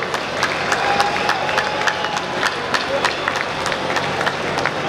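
A crowd at an MK48 birthday celebration in Entebbe claps for a group of generals. The applause is dense and steady and runs the whole time, with sharp individual claps over a broad crowd wash. A speaker's voice sits underneath it.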